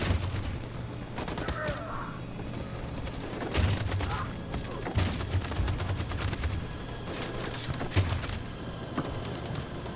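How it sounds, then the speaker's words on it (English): Machine gun fire in the video game Detroit: Become Human, dense rattling bursts with booming impacts amid battle noise, loud and continuous. "That machine gun is taking down everything that moves!"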